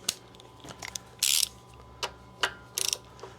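An inch-pound torque wrench ratchets while tightening bolts on a Honda GX140 small engine, giving several short, close clicking bursts separated by brief pauses in a quiet workshop.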